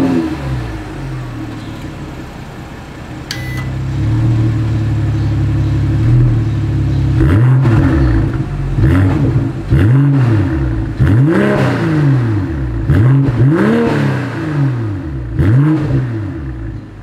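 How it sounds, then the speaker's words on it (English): A 2024 BMW M440i Gran Coupe idles with a deep burble, then is revved repeatedly in sharp rising-and-falling bursts, loud and close through the exhaust. "As always, here is that exhaust clip."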